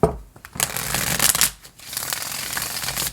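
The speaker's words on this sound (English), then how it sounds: "This is the vintage tarot. I love it. I've had it for years, but it snaps. So I try to shuffle away from the microphone." A vintage tarot deck being shuffled, with snapping riffles of stiff cards and bursts of rubbing and slapping at moderate distance, a brief pause midway, and no talk.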